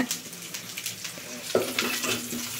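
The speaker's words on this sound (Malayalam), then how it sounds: "തേങ്ങാക്കൊത്ത് വഴന്നു." Coconut pieces sautéing in a pan for a soybean masala, a moderate sizzle with bursts of stirring scrapes and a sharper clack partway through, close and with no talking.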